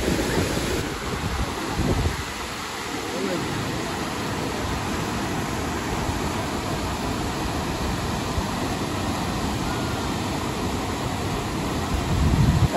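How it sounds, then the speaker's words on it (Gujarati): Flood water rushes through a village in Gujarat's Ghed region after heavy rain, making a continuous loud roar mixed with wind buffeting the microphone. "સેલ નું પાણી"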